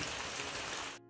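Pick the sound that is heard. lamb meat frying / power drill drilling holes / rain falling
rain falling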